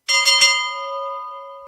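A chow bell at a baseball spring training game rings out loud and close, a few quick clangs that leave a long, clear metallic tone slowly fading.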